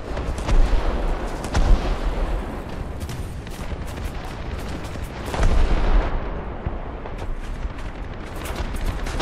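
Bombs fall on a tank in the War Thunder video game, giving a dense, loud roar of explosions and heavy booms that rumbles on continuously, with stronger blasts near the start and middle.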